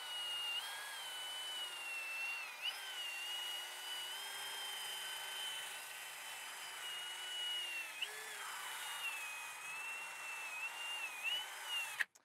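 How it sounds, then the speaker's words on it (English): A drill spins a small wire wheel against the wheel hub of a 2012-2015 VW Passat TDI, a steady high whine with brief dips and scraping as it cleans, ending abruptly. "I'm just gonna put a little wire wheel onto my drill and just give it a quick cleanup."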